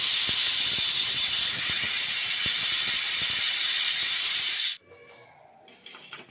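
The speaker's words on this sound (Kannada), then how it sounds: "ಸ್ಟವ್ ಮೇಲೆ ಕುಕ್ಕರ್ ಇಟ್ಟು ಒಂದು 2 ವಿಸಿಲ್ಗಳನ್ನು ತಗೋಬೇಕು ಫ್ರೆಂಡ್ಸ್" A stovetop pressure cooker cooking ridge gourd palya lets out a loud, steady steam whistle that hisses for several seconds and then cuts off abruptly, leaving quiet kitchen clatter.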